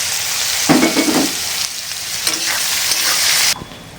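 Sliced onions sizzle in hot oil in a pan with whole spices, bay leaf, chilli and cumin for a chicken curry. The crackling frying is close and loud, with a few stirring scrapes and a brief louder burst.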